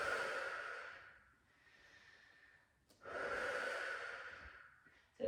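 Slow, audible breaths during a wobble cushion exercise: a long exhale, a quieter inhale, then another long exhale and a sharp start of a further breath, close and soft with no speech.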